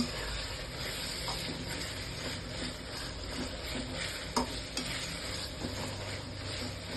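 Chopped tomatoes cooking in a pan for vangi bath give a steady, soft sizzle and hiss that holds evenly throughout, with a few faint clinks near the end.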